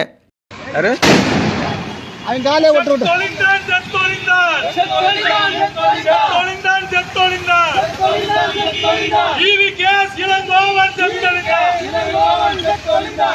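Rapid crackling bursts of firecrackers go off in a long string after an initial loud bang, mixed with raised voices and singing in a noisy crowd.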